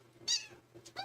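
A pet cat named Andre meows close by, two short high meows about half a second apart, the second one softer and trailing, with a faint hum underneath.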